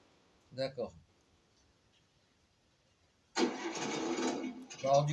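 A toy car's electronic engine sound effect plays: a brief blip near the start, then a loud, steady, buzzy engine roar lasting a couple of seconds at close range, with no one talking over it.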